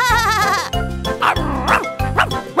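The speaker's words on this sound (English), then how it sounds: "The sheep on the tractor goes ba-ba-ba" Sheep bleating in a children's farm song about animals riding a tractor, with a few short bleats rising over the bright, loud musical backing.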